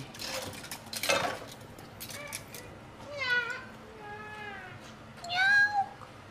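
A cat meows several times in a row, drawn-out and rising, close by, with some clattering noise early on and no talking.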